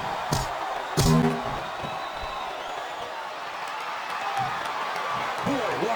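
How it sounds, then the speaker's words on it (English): Broad crowd noise from a wrestling arena in the WWE SmackDown vs. Raw 2007 video game, a steady roar with scattered shouts and a couple of brief sharp thumps early on, continuing throughout. "Sounds like this crowd's got something on their minds"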